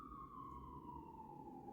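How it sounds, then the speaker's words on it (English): A police siren wails outside in a long falling tone, distant and faint over a low background rumble. "If you hear some sirens going off,"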